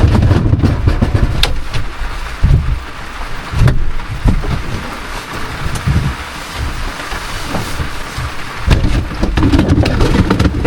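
Steady rain patters down on a camping cargo trailer amid gusty wind and low rumbling, with occasional knocks and thumps close by.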